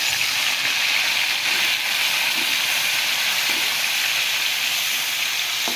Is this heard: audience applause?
no